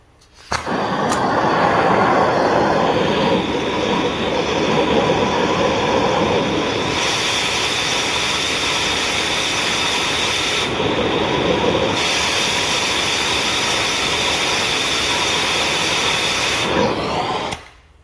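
An oxyacetylene torch with a number one tip, set to 7 psi acetylene and 40 psi oxygen, cuts metal with a loud, continuous roaring hiss that holds steady for most of the clip.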